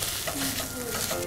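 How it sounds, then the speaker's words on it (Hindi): Keema mince roasting in a pan gives a short burst of close frying sizzle with continuous stirring scrapes, and faint tonal sounds run beneath. "जब तक गोश्त जो है बिल्कुल चिपकने ना लग जाए तब तक भूनते रहना है इसको"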